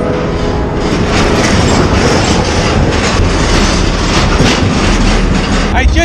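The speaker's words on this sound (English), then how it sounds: "Train right here." A freight train rolls loudly and close through a rail yard, a dense continuous rumble with rhythmic clickety-clack of wheels over rail joints and faint wheel squeal.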